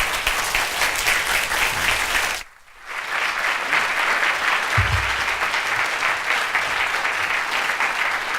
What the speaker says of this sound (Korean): 이 시간 나올 때 여러분 일어나셔서 큰 박수로 격려해 주시기 바랍니다